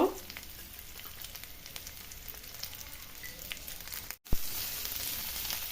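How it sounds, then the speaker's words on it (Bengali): Chilli chicken frying on a low flame, heard as a steady soft sizzle and crackle throughout, with a brief dropout and then a slightly louder hiss near the end. "এবার আমি এগুলো 2 থেকে 3 মিনিট লো ফ্লেমে ভেজে নিব।"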